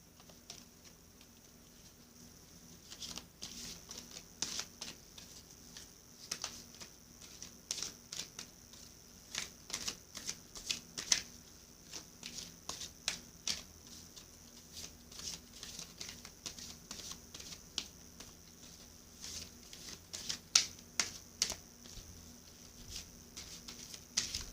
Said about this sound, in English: Now I'm going to shuffle for you the Sacred Rebels Oracle deck by Elena Fairchild